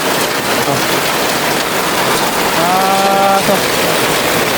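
Heavy rain pours down steadily in a forest setting, a loud, constant hiss on surfaces, with a brief voice rising over it midway.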